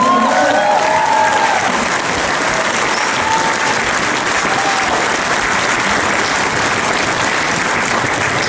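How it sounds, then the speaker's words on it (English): Sustained audience applause for the Pacific Connection performance at a prenational show, a dense, loud wash of clapping that holds steady throughout with a few faint voices mixed in. "Another round of applause"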